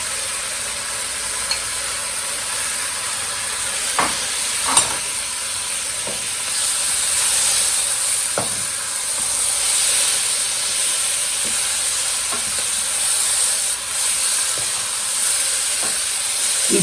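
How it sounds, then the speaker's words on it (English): Scallops searing in a hot stir-fry pan, with steak to follow, giving a steady loud sizzle and hiss with faint clinks and taps of a utensil scattered throughout, no talking. "These scallops will cook really fast."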